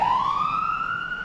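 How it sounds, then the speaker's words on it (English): An ambulance siren wails close and loud, a single rising tone that climbs and then holds high, with no voices over it. "Ambulance coming through."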